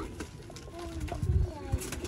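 Golden pigeons coo close by in short, low, soft bursts, with a few faint rustles and knocks around them.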